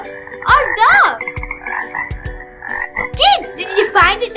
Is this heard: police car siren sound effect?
no